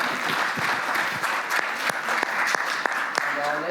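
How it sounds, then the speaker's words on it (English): A conference audience applauds after a talk at a software engineering education session, a steady, moderately loud patter of many hands clapping with occasional sharper individual claps standing out. "Let's give a big round of applause."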